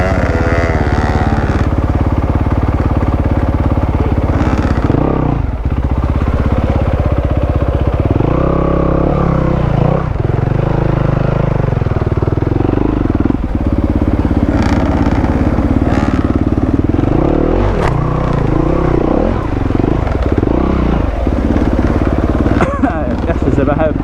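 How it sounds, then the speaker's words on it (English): Two-stroke enduro motorcycle ridden on wet trails after flooding, its engine droning and revving up and down loudly and continuously, close by, with riders' voices talking over it. "Going behind a two-stroke was the worst idea."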